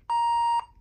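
A single clear electronic beep from a Gemmy Talkbax pug toy's record prompt, steady in pitch and about half a second long, sounds alone against near silence.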